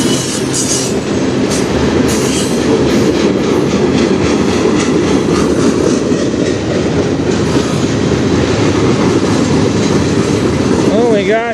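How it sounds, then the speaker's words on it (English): A train rolls past up close and loud on the Strathroy Subdivision, with a continuous rumble and rhythmic clattering of wheels on the tracks, and a brief squeal near the end. "It's my first train today."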